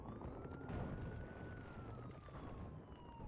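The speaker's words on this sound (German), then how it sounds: "Oh, ich höre Polizeiautos." Police car sirens wail in the multiplayer video game Battlefield Hardline, a faint steady tone that drifts slowly in pitch under background game noise and distant blasts.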